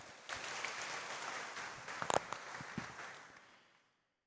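A church congregation at a feast-day Mass breaks into a sustained round of applause, a broad wash of many hands with a few sharper claps, before it dies away into silence.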